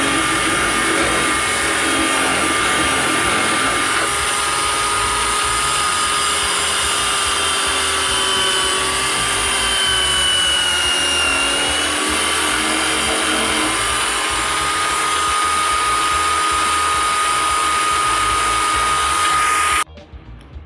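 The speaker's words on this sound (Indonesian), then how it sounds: "langsung saja kita bor ya, sesuai dengan ukuran lubang jari yang dipesan" A drill bores a finger hole through a coconut-shell ring with a loud, continuous high whine that holds steady for about twenty seconds before cutting off.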